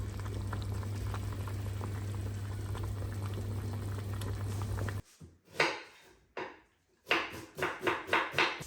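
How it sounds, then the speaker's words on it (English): Beef stock for onion soup bubbles steadily in a pot for about five seconds, then gives way to a run of sharp, rhythmic knocks and short bursts. "The stock should preferably be done the day before. A good 8 hours of simmering is nice."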